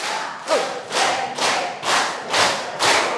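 A crowd claps together in a steady rhythm, six loud unison bursts evenly spaced about half a second apart.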